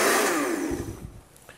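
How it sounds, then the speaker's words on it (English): Kitchen blender whirring loudly as it purees hot crab and calabaza soup under a towel, the motor roar starting strong and then winding down and fading out. "We're going to take just 2 cups in the blender, hot liquid. I'm just going to cover it with a towel and give it a blend."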